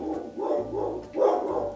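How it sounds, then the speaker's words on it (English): A pet dog named Lucy barks at home in several loud, close bursts, about three or four short barks spread across a couple of seconds. "My dog's barking."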